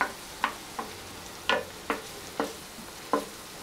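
Cauliflower Manchurian frying in a pan as vinegar goes in: soft, steady sizzling broken by about eight sharp scraping stirs at an irregular, unhurried pace, close and fairly quiet, with no talking.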